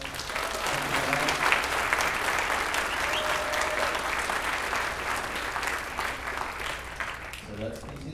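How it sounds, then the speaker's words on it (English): An audience at a sixth-grade band concert claps steadily after a piece, a dense, sustained round of applause lasting throughout, with faint crowd voices mixed in. "Let's give them a big round of applause."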